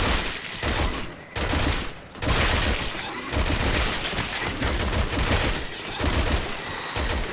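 Rapid gunfire in the Resident Evil 6 video game, a dense, loud burst of repeated shots and impacts filling the stretch, with brief dips between volleys, as a Magnum is fired at a pursuing enemy.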